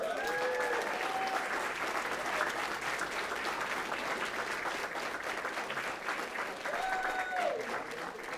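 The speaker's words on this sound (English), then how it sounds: "Let's give them a round of applause." A school board meeting audience claps for members of the Weslaco East High School Wildcat Regiment band, sustained, even applause over the whole stretch with a faint tone sounding briefly at the start and again near the end.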